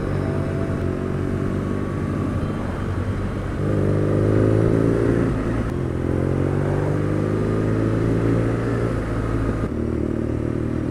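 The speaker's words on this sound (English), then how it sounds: "That engine in this frame and that exhaust, it's just truly special." A mapped 2019 BMW R nineT Scrambler is ridden with a steady engine and exhaust drone that swells into a louder, fuller note a few seconds in and holds, with brief shifts in pitch along the way.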